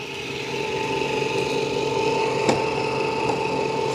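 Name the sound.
Ecovacs Deebot N20 Plus robot vacuum vacuuming and mopping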